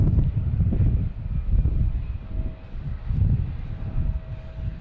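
An American Airlines Embraer E145 regional jet takes off from Boston Logan, a low rumbling engine roar that swells and ebbs, muddied by wind buffeting the microphone.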